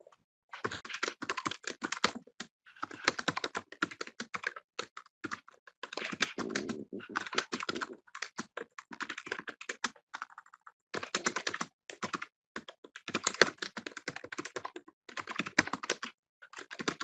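Typing on a computer keyboard, quick bursts of clicking keystrokes close to an open microphone, separated by brief pauses over about seventeen seconds.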